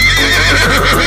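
A horse gives a loud, close whinny, a brief shaky high-pitched neigh sliding downward, heard alone.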